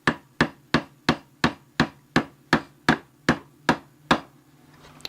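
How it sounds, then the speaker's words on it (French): A hammer drives a nail into a wooden board while a simple tray is being assembled: about a dozen sharp, evenly spaced blows, close and loud, ending in a faint rustle. "le premier clou c'est celui qui doit être bien placé"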